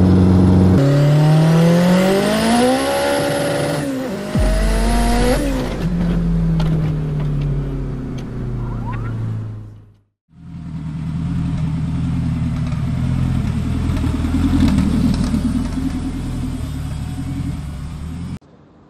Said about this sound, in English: I'm in the all-wheel drive Civic.